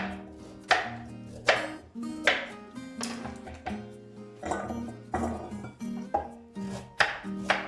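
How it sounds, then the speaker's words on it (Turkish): Steady rhythmic knife chops through carrots on a cutting board, about one or two strikes per second, close and crisp with no talking. "bir tencereme havuçlarımı doğrayıp alıyorum"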